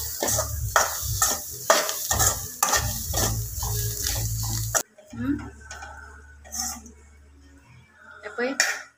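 Grated coconut roasting in a pan for a Goan clam curry, with bursts of sizzling and rhythmic scraping strokes of a stirring spoon, followed by quieter clinks and scrapes as the pan settles, voices faintly in the background.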